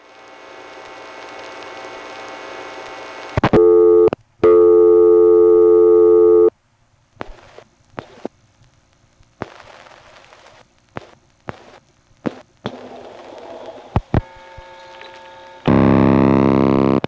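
Toneless ring of a 1970s step-by-step telephone exchange in Quarryville, Pennsylvania, heard down a phone line as loud bursts of buzzing tone separated by clicks and near-silent gaps, then a further burst at the end.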